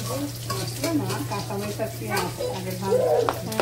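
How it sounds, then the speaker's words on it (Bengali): Malabar spinach stalks and red lentils cook with spices in a pan, giving a close sizzle and stirring scrapes. Voices talk over the sizzle, and a steady low hum runs underneath. "এই যে আম্মা রান্না করছে ডাটা পুঁয়ের শাক দিয়ে, মসুরের ডাল দিয়ে মশলা কষায় রান্না করতেছে"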